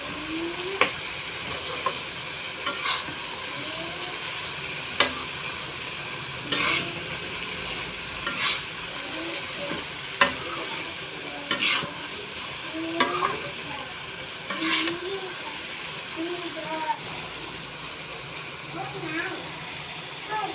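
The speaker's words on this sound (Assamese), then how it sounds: "এতিয়া অলপ সময় মাংসখিনি ভাজি ল'লোঁ আৰু এতিয়া ইয়াতে মই আলু আৰু বিলাহী এড কৰি দিলোঁ। এতিয়া ভালদৰে লৰাই" Meat with potato and tomato sizzles softly in a pan while a spoon scrapes and clinks against it every few seconds, with a voice talking intermittently in the background.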